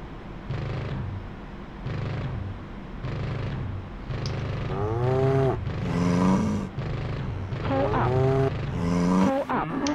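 Cows moo in the DCS flight simulator, several long lowing calls rising and falling across the stretch over steady engine drone, mid-distance and fairly loud.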